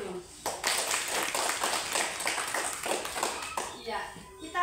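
Applause for the teacher at a school gathering at SDN 11 Palangga, several seconds of brisk, fairly close clapping from a group that fades out, with voices heard around it.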